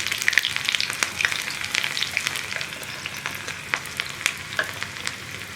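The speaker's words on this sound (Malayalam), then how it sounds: "കടുക് പൊട്ടി കഴിഞ്ഞിട്ട് നമുക്ക് ഉള്ളി ചേർക്കാം." Sliced onion hits hot oil with spluttered mustard seeds, giving a steady close sizzle and crackle with scattered sharp pops, no voices over it.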